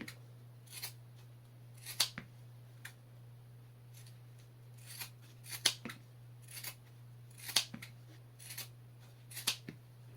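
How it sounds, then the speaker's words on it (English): Standard trauma shears snipping through fabric, roughly a dozen crisp close cuts spaced irregularly over a faint steady hum, no talking. "Standard shears."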